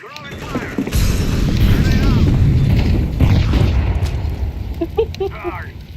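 Incendiary fire grenade in Counter-Strike 2 bursting into a loud, sustained roaring whoosh of flames that lasts several seconds, with a voice speaking briefly over it.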